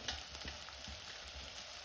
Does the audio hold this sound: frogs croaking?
no